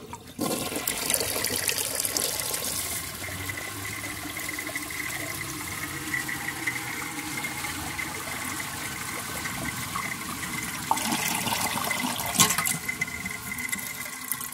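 A toilet fitted with a Universal Rundle tilt valve flushes with a steady rushing surge of water, then gurgles and refills continuously for several seconds, close and without any talk.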